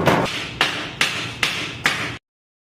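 A hammer strikes five times in a slow, even rhythm, each blow a sharp, loud, close knock with a short ringing tail, then silence.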